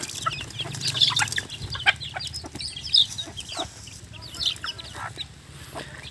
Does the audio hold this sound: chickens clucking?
yes